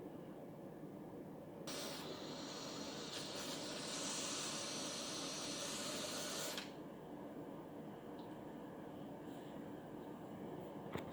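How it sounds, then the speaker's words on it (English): An Instant Pot Duo Gourmet pressure cooker venting steam through a quick release, a loud, broad hiss that bursts on abruptly, holds steady for about five seconds, then cuts off sharply into quiet room tone. "And then we're going to try the quick release to vent the steam."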